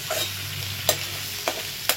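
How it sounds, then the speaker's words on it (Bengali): Prawns fry in hot oil, giving a close, even sizzling hiss punctuated by three sharp scraping stirs of a spatula against the pan. "চিংড়ি মাছটাকে ভালো করে একটু ভেজে নিই"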